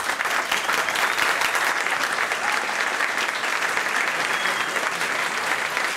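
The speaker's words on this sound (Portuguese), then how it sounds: "Por favor, uma salva de palmas." At the LibertyCon Brasil conference, a large audience gives a steady, dense round of applause to welcome Hélio Beltrão. The clapping holds at an even level for the whole stretch.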